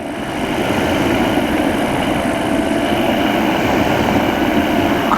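A microlight aircraft engine drones steadily through its takeoff run at a Popham airfield show on a blustery day, a loud, close, continuous hum with no one talking.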